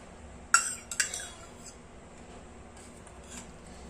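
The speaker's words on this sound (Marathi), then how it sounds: "प्लेट घेतलेली आहे, तूप लावून घ्यायचं." A metal utensil clinks twice against a plate while ghee is spread on it, two sharp close chinks followed by soft faint scraping.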